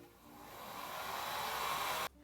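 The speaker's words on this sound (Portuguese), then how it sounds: "Aqui eu estou utilizando o soprador, mas vocês podem utilizar o secador." A heat gun blows steadily over freshly painted MDF Christmas decoration, a continuous broadband whoosh that swells slightly and holds for about two seconds before cutting off abruptly.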